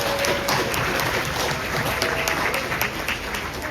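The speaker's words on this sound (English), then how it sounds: "let's welcome them with a big round of applause" Audience applause at an elementary school Christmas pageant, a steady, dense wash of many hands clapping throughout with a faint murmur of voices mixed in.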